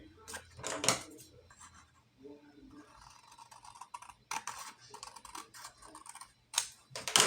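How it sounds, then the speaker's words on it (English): Paper page for a Christmas junk journal being trimmed, a run of close, quiet snips and cutting scrapes in irregular bursts, with soft handling clatter between them. "I'm going to go ahead and trim off the top of this one too as well"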